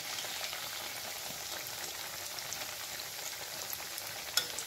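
Cabbage pakoras deep-frying in oil, a faint even bubbling crackle that runs steadily with a single small clink near the end.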